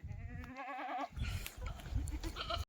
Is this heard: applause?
no